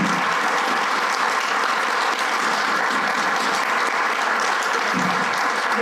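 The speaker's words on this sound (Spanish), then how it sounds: "les doy un aplauso porque ustedes son los guerreros" Loud, dense applause from an audience at a World Pulmonary Hypertension Day event, a continuous wash of many hands clapping at even volume throughout.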